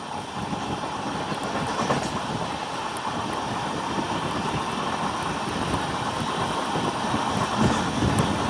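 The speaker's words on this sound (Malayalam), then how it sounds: "ട്രെയിൻ ഇതാ കാഞ്ഞങ്ങാട് റെയിൽവേ സ്റ്റേഷൻ സ്കിപ്പ് ചെയ്യുകയാണ്." An Amrit Bharat Express sleeper train runs at speed past Kanhangad station, its continuous heavy rumble and rattle filling the whole stretch at a steady level, with faint clicks now and then.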